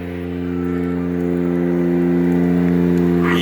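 Toyota 1JZ straight-six idling at a Japanese car auction, a smooth, steady, purring hum that swells slightly, close and fairly loud, with no one speaking.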